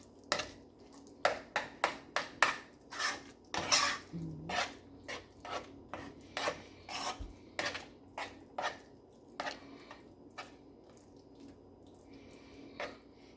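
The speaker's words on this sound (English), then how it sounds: "And stir that in real good" A spoon stirs food in a pot for a Mexican-style dinner, producing a quick series of close scraping clicks and soft wet knocks in an uneven rhythm, with quieter gaps between bursts.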